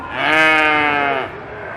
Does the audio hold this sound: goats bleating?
yes